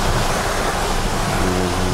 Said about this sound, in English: going through a little mud water trail here.